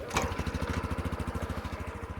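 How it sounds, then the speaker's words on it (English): A Honda Trail 125 motorcycle engine catches after a kickstart near the beginning, then settles into a steady, rhythmic idle with evenly spaced low pulses throughout, close and moderately loud. "So let's go ahead and cycle our engine."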